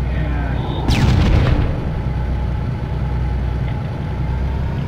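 A tank cannon fires in Halo: Combat Evolved, one heavy boom with a sweeping whine near the first second over a steady loud engine rumble, then the low drone carries on without further shots.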